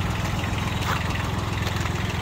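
A Kubota ZB1402 all-wheel-drive Japanese compact tractor engine runs steadily up close. It gives a continuous low, throbbing mechanical rumble with no talking.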